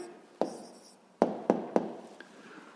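A pen writing an answer on paper during a sixth-grade math exercise, one tap followed by a quick burst of three scratchy strokes, close and soft with no talk.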